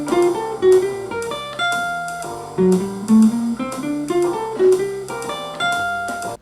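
Jazz guitar plays a lick, a quick run of single notes and chord stabs in a swinging, uneven rhythm, clean and close with no talking.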